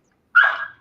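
A single short, sharp dog bark, close and loud, standing alone against silence.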